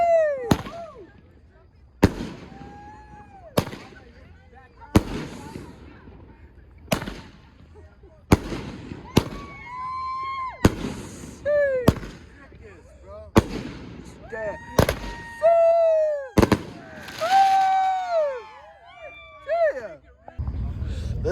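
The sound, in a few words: Fourth of July fireworks going off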